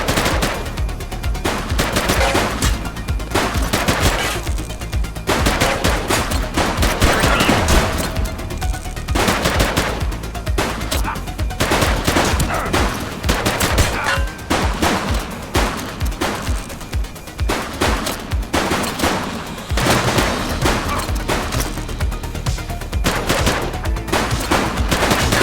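Dense gunfire in The Precinct, a neon-noir police action game: rapid bursts of automatic fire and sharp single shots crackle almost nonstop, loud and close, with no talking.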